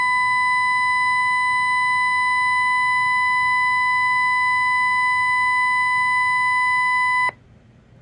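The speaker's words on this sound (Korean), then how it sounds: "이때 증폭된 출력 파형이 찌그러지지 않게 사인파 크기를 낮추어 조절합니다." A steady, loud sine-wave test tone with harmonics comes from a speaker driven by an amplifier circuit in an electronics lab demonstration. It holds for about seven seconds, then cuts off abruptly to a quiet hum.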